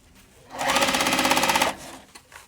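A sewing machine stitches a seam across a crossbody bag in one fast, rhythmic burst of about a second, loud and close, with quiet moments on either side.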